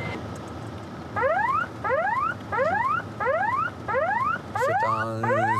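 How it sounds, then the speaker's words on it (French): A loud electronic whooping tone sweeps upward again and again in steady bursts from an airport bird-scaring device at Orly, followed by a warbling electronic tone at the end. "C'est un bruit d'effaroucheur, justement, pour faire bouger les oiseaux."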